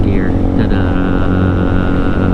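A Lifan KPR200 motorcycle cruises in sixth gear on city streets, its engine a steady, loud droning buzz with constant rumble and wind noise, close to the rider.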